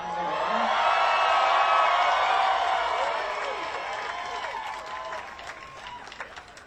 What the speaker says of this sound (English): this is a big, boisterous crowd